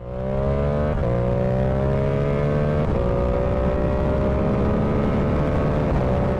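A motorcycle accelerates hard through several gears with a quick shifter, the engine note climbing steadily and dropping abruptly at each clutchless upshift, loud and close with no talk.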